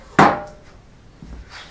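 A single sharp strike while punching a hole in a homemade toaster attachment for a camping gas stove, one loud close impact followed by quiet and a faint knock.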